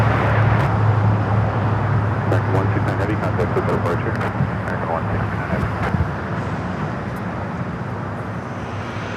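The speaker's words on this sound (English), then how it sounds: "That was American Airlines 169 taking off to Tokyo Haneda on the 787-9 Dreamliner." American Airlines Boeing 787-9 Dreamliner departing LAX for Tokyo Haneda, a steady loud broadband jet roar throughout takeoff, with a voice talking over it.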